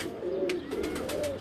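Pigeons kept by a fancier in Karachi coo close by, two rolling low coos in quick succession with a few faint wing or beak clicks between them.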